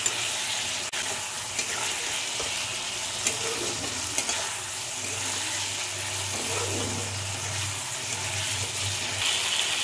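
Pointed gourd curry with spices, sweetener and hot water being sautéed and stirred in a pan, a continuous bubbling sizzle with a low rumbling undertone and occasional stirring knocks, close and without speech.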